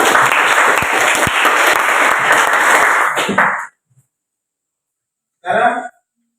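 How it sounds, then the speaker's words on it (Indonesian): Loud, dense audience applause in a classroom-style gathering, steady for about three and a half seconds before cutting off, followed after a pause by a brief burst of noise. "Tepuk tangan."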